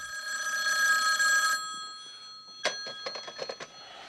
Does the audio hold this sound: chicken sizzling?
no